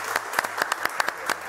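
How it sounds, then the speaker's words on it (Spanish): Sparse, scattered claps from a small audience at a family magic show, a handful of distinct hand claps spaced irregularly over a quiet background. "un aplauso más fuerte a la señorita Zanahoria"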